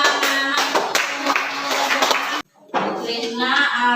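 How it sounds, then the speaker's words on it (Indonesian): Classroom applause for schoolchildren after their group worksheets were all marked correct: a dense patter of clapping hands, fairly close and steady, stopping abruptly midway, then resuming with voices of children mixed in. "Tepuk tangan untuk anak-anak"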